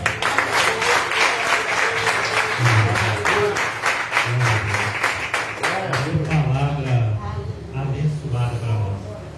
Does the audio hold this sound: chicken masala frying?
no